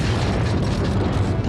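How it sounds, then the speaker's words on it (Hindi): A bomb blast in the Sadar Kalibari area of Peshawar, caught on a CCTV camera, comes through as a loud, distorted roar of rumbling noise that fills the whole brief moment. "सुबह 8:45 पर पेशावर का इलाका सदर कालीबाड़ी बम धमाके से गूंज उठा।"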